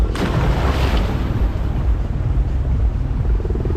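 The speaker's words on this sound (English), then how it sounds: "Oh, helicopter." Helicopter passing over a Thai waterpark, a steady loud rumbling drone that fills the whole clip, blended with splashing water and crowd noise, with no clear rotor beat standing apart.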